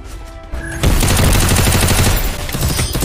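Rapid bursts of gunfire from the Free Fire video game in a Clash Squad match, loud and dense, starting around half a second in and continuing as a near-continuous volley to the end.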